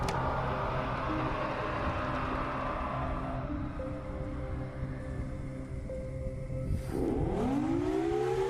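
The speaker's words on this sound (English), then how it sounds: "A tornado siren begins sounding in the distance" A tornado siren wails steadily from far off, its pitch rising and falling. Near the end it winds up noticeably louder.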